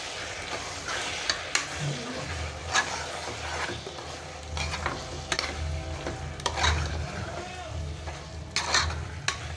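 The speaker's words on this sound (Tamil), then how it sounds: "இப்போ இதை நல்லா மிக்ஸ் பண்ணி விடலாம்" Mint and coriander mixture stirred in a pan at home, with a soft, continuous sizzle under a spoon scraping in irregular strokes, close and fairly quiet.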